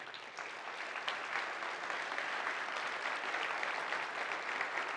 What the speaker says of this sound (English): Can we have a huge round of applause for the winners?